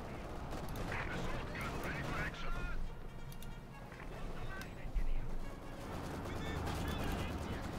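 Katyusha rocket artillery salvo in Company of Heroes 2, a dense roar of launches and explosions running through the whole stretch, with a commentator talking over it.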